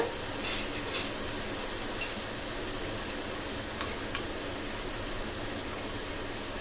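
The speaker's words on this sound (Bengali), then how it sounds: "বাকি মশলাগুলি দিয়ে ভালো মতন কষিয়ে নিতে হবে।" Spices, including cumin and coriander powder, sizzle continuously in oil in a pan for a spicy broiler chicken curry. The hiss is close and steady, with faint stirring scrapes and no talk.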